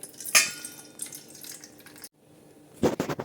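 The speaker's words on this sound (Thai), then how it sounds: "เราก็จะ เทน้ำก่อนนะครับ" Water pours and splashes into a container in short bursts, with a brief pause before another close pour, while mixing dough for Thai fried dough sticks.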